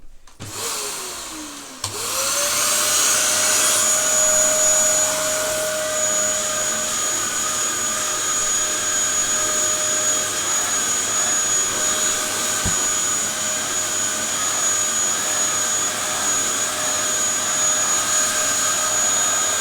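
A Dyson upright vacuum cleaner starts with a brief click and rising whine, then runs alone at a loud, steady high-pitched roar for the rest of the stretch, with one faint knock partway through.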